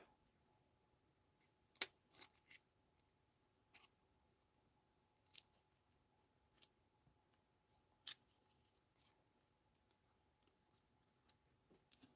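Scissors snipping vellum card during a slimline card-making craft session, a series of short, crisp, close cuts spaced irregularly over quiet background.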